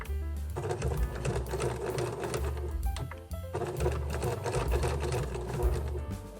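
Steady, fast rattling hum of a sewing machine stitching and back stitching a zippered make-up pouch, running continuously with one short pause midway, with a voice faintly underneath.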